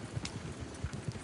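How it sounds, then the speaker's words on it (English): Horse hooves from Red Dead Redemption 2 as the horses are urged to speed up, a steady run of close, soft thudding clip-clop beats in quick rhythm with no talk. "smack the reins to make the horses go faster"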